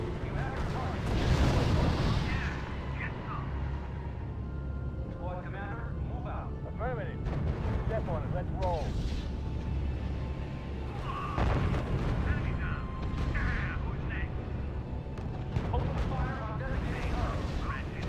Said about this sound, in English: Sir, the Field Artillery Battalion is opening fire.